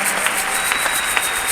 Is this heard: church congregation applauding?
yes